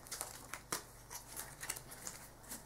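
A deck of Cardfight Vanguard trading cards being shuffled by hand, a quiet, close run of papery riffles and crinkly flicks.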